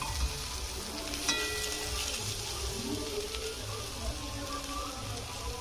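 Korai greens frying in a pan with a steady, soft sizzle and occasional stirring scrapes, close and continuous throughout with no talking.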